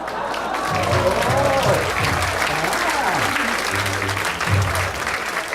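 Audience applause after a magician's finale at a stage show, a continuous wash of clapping with music and a voice sounding over it.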